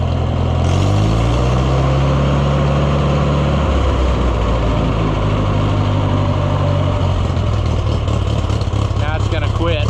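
An Oliver 1250 tractor engine runs nearby after a fuel system cleaning, a loud continuous rumbling idle with shifting low tones and some clatter toward the end.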